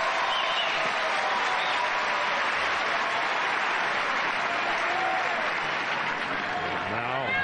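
Steady applause from a large tennis crowd fills the whole stretch, a dense roar of clapping with a few scattered voices rising through it.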